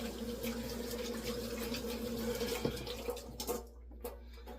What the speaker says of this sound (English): properly wash with some warm water.